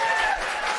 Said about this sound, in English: Everyone, could you give Jay a round of applause?